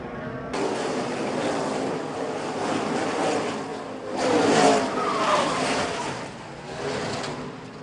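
A NASCAR race car crashes into the wall during a road course race; a continuous loud, broadband roar and scraping rush swells toward the middle, heard from a distance without speech.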